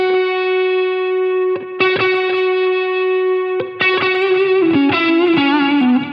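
An electric guitar with the volume knob full up and the tone knob rolled off, played through effects. Long sustained notes give way to quicker plucked phrases with a muffled, dark edge, loud and alone.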